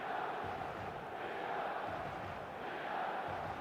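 Passionate stadium crowd in the eFootball 2025 video game on a clear evening, a steady distant roar of massed voices with a soft chant-like swell, continuous and fairly quiet, no clear talking over it.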